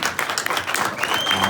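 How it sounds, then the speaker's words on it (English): A hypnosis show audience breaks into a brief burst of lively applause, thick overlapping claps with a crowd murmur beneath, loud and close for just over a second. "give a big round of applause to all these folks"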